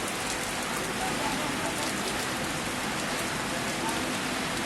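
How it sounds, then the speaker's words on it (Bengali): Heavy rain driven by strong wind after a hot spell, a dense, steady roar of water pouring down throughout, close and loud with gusting air mixed in, and a faint voice briefly under it. "সুপার বৃষ্টি হইতেছে।"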